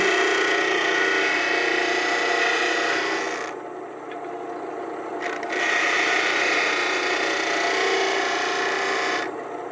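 A steady, harsh grinding rasp of a worn drill bit against an abrasive wheel while sharpening its relief angle continues for several seconds, briefly easing midway before resuming at full strength.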